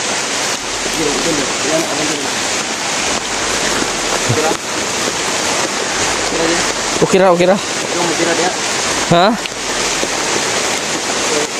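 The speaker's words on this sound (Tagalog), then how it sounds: "Lakas yung ulan mga tol." Heavy rain pouring down outdoors, a dense steady hiss that fills the whole clip while people talk over it.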